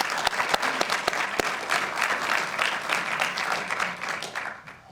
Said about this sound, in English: So a little round of applause for all of those as well.